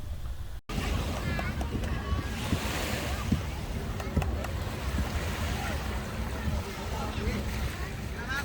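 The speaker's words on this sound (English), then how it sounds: "Here on the beach, in this lovely new beautiful beach in Pattaya" Surf washes onto a beach at Pattaya in Thailand as a continuous broad roar, with wind buffeting the microphone. Someone talks over the waves for most of the stretch.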